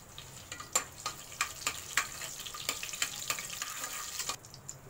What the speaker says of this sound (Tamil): எண்ணெய் சூடானதும் ரெண்டு லவங்கம் ஒரு பட்டை கொஞ்சம் சோம்பு ஒரு பிரிஞ்சி இலையை உடச்சி போட்டுரும்